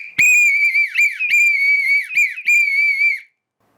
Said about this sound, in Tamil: டென்ஷனை கம்மி பண்றதுக்காக நான் விசில் ஊதிக்கிட்டேன்